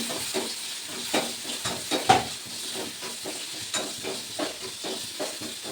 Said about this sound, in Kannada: ಇದು ಶಿಸ್ತಾಗಿ ಫ್ರೈ ಮಾಡ್ಕೊಳತ್ತೆ ನೋಡಿ.